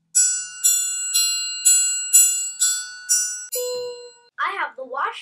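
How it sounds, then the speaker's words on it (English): A triangle rings out several times in a steady rhythm, clear high metallic tones each shimmering briefly, then a voice speaks at the end. "I have the triangle, and it goes ding,"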